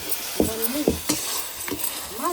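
Cumin, mustard seeds and garlic fry in hot oil as a tempering for cooked greens, with a steady sizzle broken by several sharp stirring scrapes and clinks.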